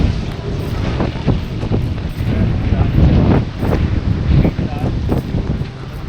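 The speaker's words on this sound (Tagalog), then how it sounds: "Grabe, lakas ng hangin, tapos ang lakas ng ulan." Strong wind and heavy rain batter a mountaintop campsite at People's Park in Tagaytay, a continuous roaring rush with gusty surges and scattered pattering hits close to the microphone.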